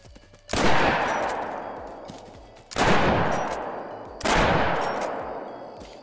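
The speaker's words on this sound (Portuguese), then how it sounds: "Eu acho que se eu atirar daqui é que eles lá não escutam" Three loud rifle shots while hunting African buffalo in theHunter: Call of the Wild, each a sharp crack followed by a long rolling echo that fades over about two seconds, evenly spaced with no talk.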